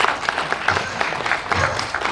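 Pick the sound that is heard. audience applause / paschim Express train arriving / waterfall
audience applause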